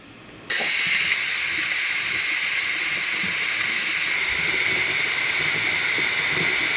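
A pressure cooker of rice suddenly releases its steam, starting with a sharp onset and continuing as a loud, steady, close-up hiss that stays level and uninterrupted.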